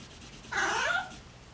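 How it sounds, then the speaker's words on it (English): A single short whine from an elderly dog, high and nasal, rises and fades within about half a second in an otherwise quiet room. "Oh, did you guys hear that? That's my dog."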